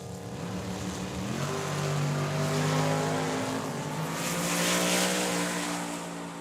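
A Camaro and a boosted Mustang launch side by side down the drag strip at Tucson Dragway, loud engines roaring and rising in pitch through the gears, then swelling again as they pass, heard alone.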